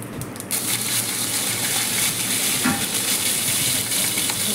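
Mustard seeds, white sesame seeds and curry leaves frying in hot oil in a kitchen, giving a steady, close crackling sizzle with faint pops throughout.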